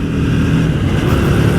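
Triumph Speed 400 motorcycle being ridden, a loud close engine drone with rough low-pitched rumble and steady wind noise throughout.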